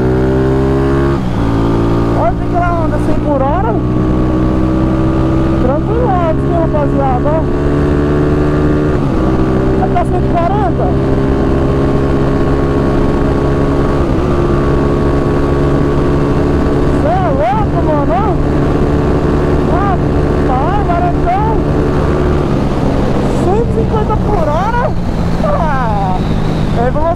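A 1994 Honda CG motorcycle with a 240cc engine drones loudly and continuously at highway speed, its engine note rising and falling through gear changes over heavy wind rush, with a rider talking throughout.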